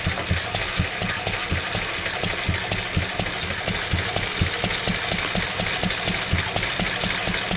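A Lister stationary engine running on stale petrol, idling steadily up close with a rapid, even thumping beat and a constant high whine above it.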